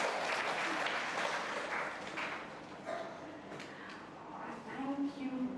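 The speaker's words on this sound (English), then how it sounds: "Let's give a huge round of applause for all of you who are trying to write." Students in a school hall clap together after an author's talk, a broad steady patter of applause that fades slightly midway and swells again near the end, with some voices mixed in.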